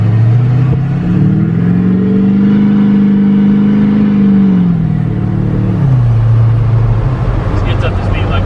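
An LBZ Duramax diesel pickup, a short-bed build, accelerates with a deep engine note that climbs steadily in pitch, holds, then drops back before rising again, close and loud with a rumbling undertone.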